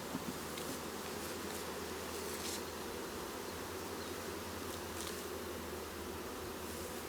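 Honeybees hum around a hive fitted with a syrup feeder, a soft, continuous buzzing that stays steady and fairly faint throughout, with no talking.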